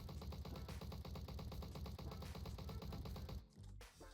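MP40 submachine gun in the Roblox game Bad Business firing one long sustained automatic burst of rapid, evenly spaced shots, loud and close, cutting off near the end before a short trailing tail.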